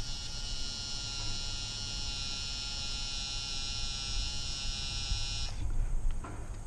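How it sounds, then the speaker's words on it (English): Electric sprayer shooting a rinse solution, a steady high motor buzz and hiss held for several seconds before cutting off abruptly, followed by faint drips and rustle. "Mike, quit pumping up your sprayer, man. Get one of these. It shoots a long way too."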